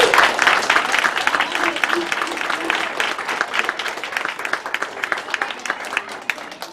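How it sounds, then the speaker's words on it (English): An audience at a Cub Scout pack crossing-over ceremony claps for the founding pack members, dense applause from a crowd that gradually thins and fades over several seconds. "let's give them a round of applause"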